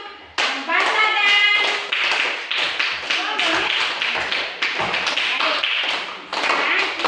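Students in a classroom clap hands together in a rhythmic pattern of sharp, close claps, interspersed with children's voices chanting along.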